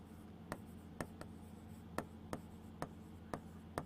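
A pen writes on an exam answer sheet in short, evenly spaced strokes with sharp ticks about every half second. The scratching sits close over a steady low background hum, and nobody speaks.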